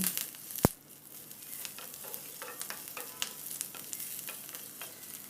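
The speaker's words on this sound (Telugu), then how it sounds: "ఒక రెబ్బ కరివేపాకు కూడా యాడ్ చేసుకుని పూపంతిని దోరగా వేయించుకోవాలి" Curry leaves and tempering spices frying in a pan for curd chutney, a soft continuous sizzle with a sharp clack near the start and scattered light crackles and stirring scrapes, faint and without talk.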